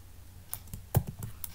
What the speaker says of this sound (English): and I am just typing here Sanjay, right?